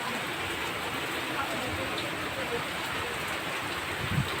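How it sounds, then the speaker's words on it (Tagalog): Steady rain falls near a seaside spot at Bitanya where boats have landed, a dense even hiss that fills the whole clip; voices are present beneath it. "Ulan nga."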